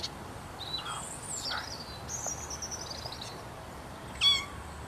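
A kitten gives a few thin, high mews over a faint hiss of background noise, ending in one sharper, louder cry near the close.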